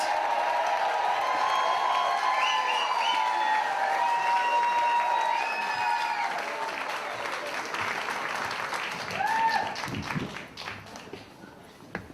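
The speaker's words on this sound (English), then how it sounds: "Everyone else join in, start whooping, start cheering." A stand-up comedy crowd at a comedy club cheers, whoops and applauds for a comedian's entrance, with whistles and high shouts over continuous clapping that gradually thins and fades.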